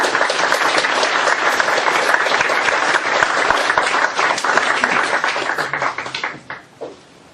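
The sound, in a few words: audience applause welcoming a lecturer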